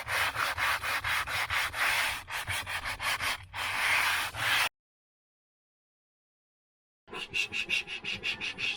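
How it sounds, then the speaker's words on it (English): Hand sanding on the wooden strips along the side of a boat gives a close, rhythmic scratching of repeated strokes, stopping for a silent gap of a couple of seconds before the strokes resume. "Sanding the side of the boat"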